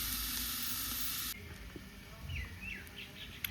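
Steady hissing sizzle of onions frying in oil over a low flame, loud at first then dropping to a softer crackle, with a few faint chirps in the background.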